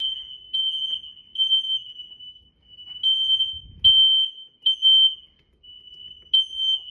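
A smoke alarm during a hurricane chirps in a series of high, piercing beeps, some short and some held, separated by brief gaps, with a faint low thump partway through.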